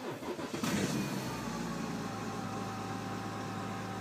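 A car engine cold-starts in sub-zero weather, running on Lukoil fuel: a brief rough cranking burst, then the engine catches and settles into a steady, loud idle with a droning hum, heard close up with no talk.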